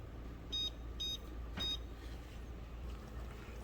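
A kitchen timer beeps in three short bursts of rapid electronic tones, spaced about half a second apart, over a low steady room hum while noodle soup cooks.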